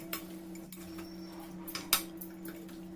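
Chicken marinade with yogurt and salt stirred in a bowl, a quiet close run of light clinks and taps of a utensil against the bowl, with a few sharper knocks.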